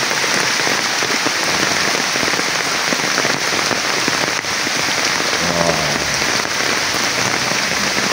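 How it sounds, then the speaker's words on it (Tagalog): Heavy rain pours down steadily, a dense continuous hiss of drops drumming on surfaces close by, loud and unbroken throughout with no voices. "Lakas kasi yung ulan dito."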